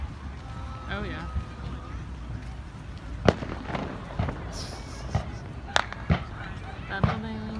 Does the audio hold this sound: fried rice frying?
no